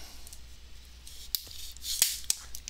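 Tool cutting into the plastic frame of an HP Beats 15t-k100 laptop near the Wi-Fi antenna cord, a few sharp snipping clicks and a brief crackling crunch, close over a faint hum.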